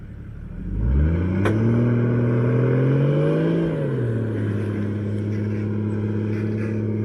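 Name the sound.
4WD vehicle towing a trailer up a desert sand dune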